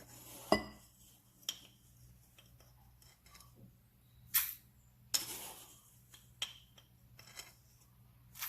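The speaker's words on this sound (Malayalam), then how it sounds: "അതിനായിട്ട് നമുക്ക് ഈ പാത്രത്തിലോട്ട് ഒരു 2 ടേബിൾ സ്പൂൺ കോഫി പൗഡർ ഇട്ട് കൊടുക്കാം." Two tablespoons of coffee powder spooned into a bowl for hot dalgona coffee, heard as a handful of sparse, light clinks and taps of a spoon against the bowl with quiet pauses between.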